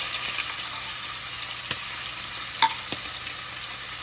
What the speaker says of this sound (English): I'm gonna cook these shrimp until they're all the way pink on that one side.